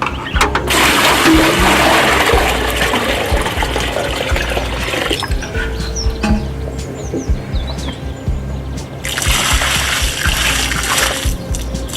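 Water pours onto soil covering a compost trench in a garden, making a loud steady splashing rush that eases midway and then returns, with birds chirping faintly in the background.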